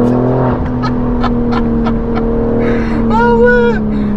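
A BMW M4 six-cylinder with a full straight-pipe exhaust drones steadily at a constant pitch, close and loud, with a few brief crackles and a short rising whine near the end.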